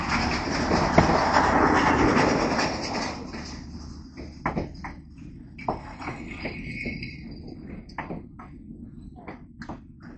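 A passenger train hauled by EMD locomotive 6616 rolls past. A heavy rumble gives way to a rhythmic clickety-clack of wheels over rail joints, loud and close, with sharp repeated clicks continuing to the end.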